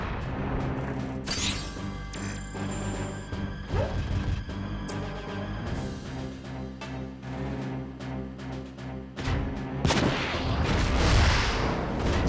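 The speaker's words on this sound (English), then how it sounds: "Bazookas." Bazooka blasts and explosions from the PS2 game Front Mission 4 crash loudly and repeatedly, mixed with rattling gunfire and booming impacts in a dense, continuous barrage.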